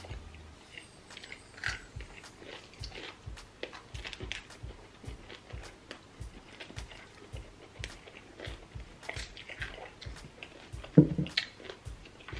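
Close-up biting and chewing of crunchy food at a mukbang meal of seafood-stuffed salmon, cheddar biscuits and asparagus, with steady rhythmic crunches and moist chews repeating throughout and one sharper bite near the end.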